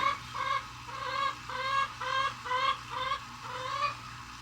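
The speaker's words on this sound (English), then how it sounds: "There's a chicken that prefers to live on the porch." A chicken living on a porch clucks in a steady series of short rhythmic calls, close and clear with no talking over it.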